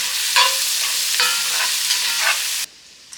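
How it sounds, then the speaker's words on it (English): Onions sautéing in a pan for a spinach feta quiche, a steady bright sizzle with a few stirring scrapes, close and continuous before cutting off abruptly near the end; no talk. "you're going to want to saute it for probably about 2 minutes till the onions are softened"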